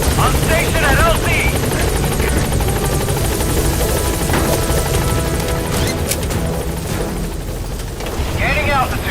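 A helicopter in Metal Gear Solid V, its loud continuous rotor thump and engine whine close by under brief radio chatter and scattered effects.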